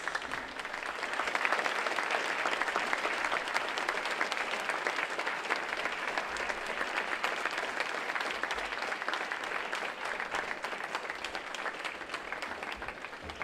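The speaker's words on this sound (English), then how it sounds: "give yourself a round of applause for investing into your life" Audience at a talk clapping together in a steady, even round of applause that holds at a constant level throughout, fairly soft and distant.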